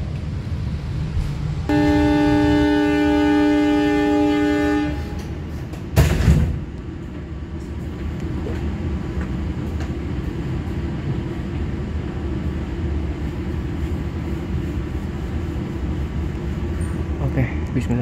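An Indonesian passenger train, the Dharmawangsa, sounds its horn in a long steady blast, followed by a short clunk, then a continuous low rumble of the train interior.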